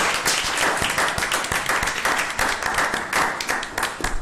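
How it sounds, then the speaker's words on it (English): Audience applauding at a Jackson Public School District board meeting, a steady burst of many hands clapping, loud and continuous throughout. "Clap her all the way up."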